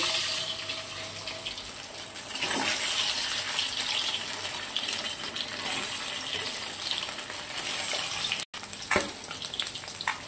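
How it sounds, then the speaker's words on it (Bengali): Eggs coated in salt, turmeric, cornflour and lemon juice sizzling in hot oil, a continuous loud hiss and crackle with brief bursts of spatter, close up and with no one speaking. "এই তেলের মধ্যে দিয়ে দেবো নুন হলুদ আর কর্নফ্লাওয়ার আর লেবুর রস দিয়ে মাখিয়ে রেখেছিলাম"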